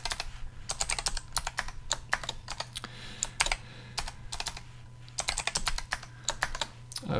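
An email address and password are typed on a computer keyboard in bursts of quick, close key clicks, with short pauses between runs.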